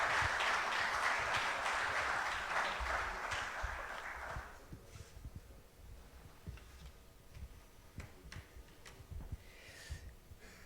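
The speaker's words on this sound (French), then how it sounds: "et on l'applaudit bien fort." An audience at a French round-table event applauds a guest speaker, with dense clapping for about four seconds that then stops, followed by quiet room noise with faint ticks and thumps.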